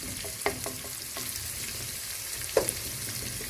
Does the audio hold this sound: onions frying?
yes